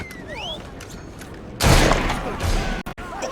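Gunfire in the Victorian-era action game Assassin's Creed Syndicate: a sudden loud crack-and-roar burst erupts after quieter background noise, sustains briefly, then cuts off sharply with a couple of clipped dropouts.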